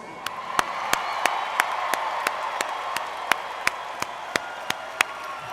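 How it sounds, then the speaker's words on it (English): A graduation commencement audience at West Virginia University's College of Business & Economics claps steadily, a dense wash of applause with regular sharp accents, fairly distant and moderate in level, with no talk over it. "Another round of applause."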